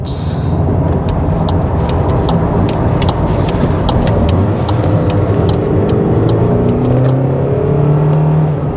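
A 2025 VW Golf's engine pulls hard in sport mode, heard from inside the car as a loud, steady drone rising in pitch over road rumble, with no talking.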